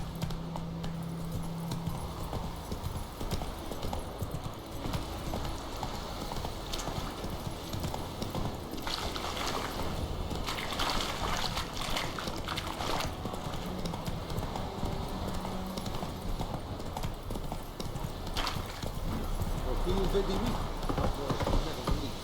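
Hooves of a galloping horse in The Witcher 3 video game pound in a steady clip-clop rhythm, loud and continuous, with game music and a voice speaking over them and a brief whinny near the end.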